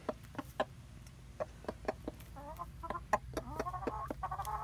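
A hen clucks repeatedly after catching a mouse, sharp clucks and rising vocal calls coming in an uneven rhythm, fairly close, over a low background hum, with no talking.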